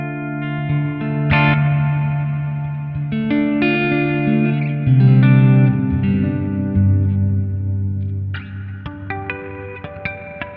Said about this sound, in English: I love these big, lush church reverbs.